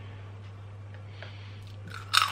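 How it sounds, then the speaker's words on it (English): Lay's paprika-flavoured spiral-shaped crisps are bitten at the very end, a sharp, close crunch after a quiet pause. "Crunchy and delicious spiral shaped crisps with a flavour."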